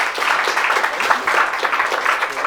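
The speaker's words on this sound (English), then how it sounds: "So please give a round of applause for Todd." An audience at a digital privacy meetup applauds, a dense, even wash of clapping from many hands throughout.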